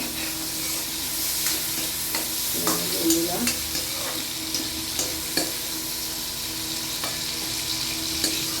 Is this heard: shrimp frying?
yes